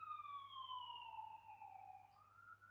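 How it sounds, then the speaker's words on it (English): Ambulance siren from a nearby ambulance station, a single steady wailing tone gliding slowly downward over a low constant hum, faint and heard from indoors. "I live near a ambulance station, so can't really tell them not to put the sirens on."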